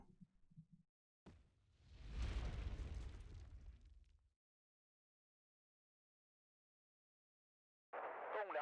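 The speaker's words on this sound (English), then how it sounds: "that's a bombing run from his side" Bombing-run explosions in the real-time strategy game Wargame: Red Dragon, a sharp burst followed by a deep rumbling blast that fades over a couple of seconds, with a short noisy sound near the end.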